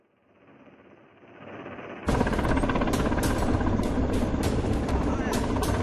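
A helicopter hovers above a stalled ropeway rescue operation with people stranded about 1500 feet up in Deoghar, Jharkhand; rotor noise builds from faint to loud and then pounds steadily and close.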